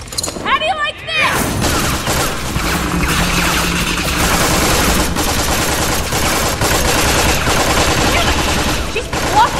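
Gunfire in the video game Tales from the Borderlands, a dense continuous fusillade of shots mixed with crashes and a loud game soundtrack, steady and close throughout.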